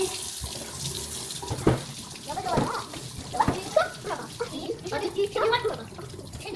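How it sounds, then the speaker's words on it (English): Kitchen tap running while hands are washed at a sink, a steady splashing flow with shifting spatter as the hands move under it, nearby and moderately loud, with voices talking briefly over it. "You gotta wash your hands with me."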